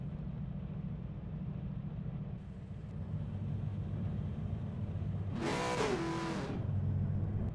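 Steady low engine drone of a 6.2 litre LT1 V8 race car rolling on a formation lap, heard on board, with a brief louder burst of revving and whine near the end.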